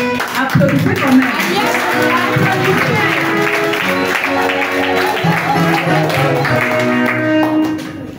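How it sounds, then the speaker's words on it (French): A congregation applauds during a church thanksgiving mass marking a Radio Maria listeners' club anniversary. The clapping is steady and continuous over loud music with singing, filling the whole stretch before it tapers off at the end. "Applaudissez quand même."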